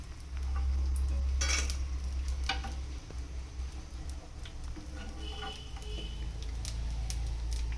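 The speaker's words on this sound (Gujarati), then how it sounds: "આ રીતે બધો ગુંદ આપણે તળી દઈશું" Edible gum (gond) being fried in ghee makes a continuous close crackling sizzle, with occasional light clinks of a scoop or spoon against the pan and no talking.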